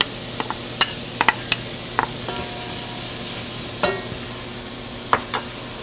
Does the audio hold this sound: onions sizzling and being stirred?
yes